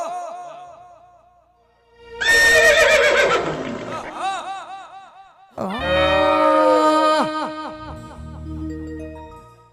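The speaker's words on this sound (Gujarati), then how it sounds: "ઘોડો ઘોડો" A horse neighs loudly at a lively outdoor live ramel music program, giving two long, wavering whinnies close by, with a brief quieter call at the start.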